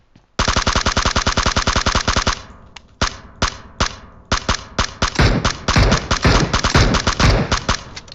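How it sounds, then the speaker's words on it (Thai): Rapid automatic gunfire in PUBG Mobile, loud close bursts of evenly spaced shots, a long opening burst followed by shorter volleys and a dense stretch of firing toward the end. "น้องช่วยพี่ยิงรถหน่อย"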